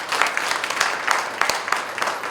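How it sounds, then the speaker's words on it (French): An audience claps warmly for a provincial governor at a ceremony, a steady wash of applause with scattered sharper claps standing out, fairly close and full throughout. "qu'on applaudit chaleureusement"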